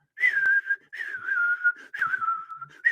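Close solo whistling imitates a bird call with grace notes, running as three sustained, slightly wavering phrases with quick ornamental flicks between them, loud and clear with no talking.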